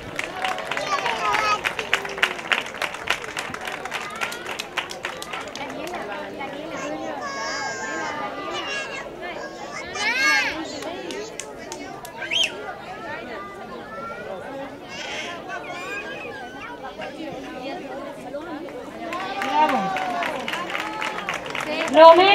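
Audience at a school end-of-year graduation ceremony clapping and chattering, with bursts of applause rising and falling over a lively crowd of children and adults while a voice announces names.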